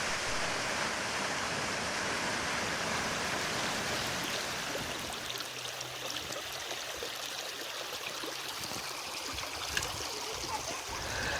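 Creek water flows steadily outdoors with a broad, continuous rushing and trickling wash that stays loud and even throughout, with no voices heard.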